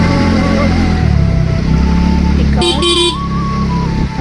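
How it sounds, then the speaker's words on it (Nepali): Motorcycle horn honking in a short burst of two tones during a ride, loud and close over steady engine and wind noise, with no talking. "हर्न चाहिँ म एकदमै ज्यादा लाउँछु"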